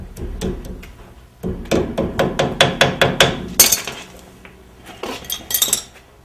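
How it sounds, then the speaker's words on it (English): A quick series of sharp metallic hammer taps bending over a cotter pin during a Pontiac disc brake conversion, in a steady rhythm, followed by a few more scattered strikes after a short pause, close by. "you hit it over with a hammer"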